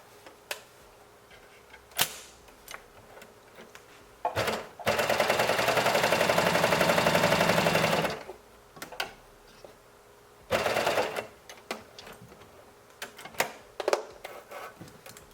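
A cover stitch sewing machine stitches a dress in one loud, steady run of about four seconds, after shorter bursts of whirring before and after, with clicks and handling noises between and no talk.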